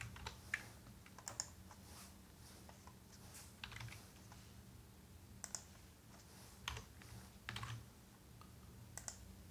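Light, irregular keystrokes on a computer keyboard, soft and close, with short bursts of taps and pauses over a faint steady hum.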